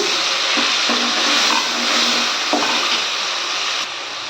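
Tomato paste sautéing in a pan for Tamil-style fenugreek curry gives a steady close hiss of frying, with a few soft stirring scrapes and no talking.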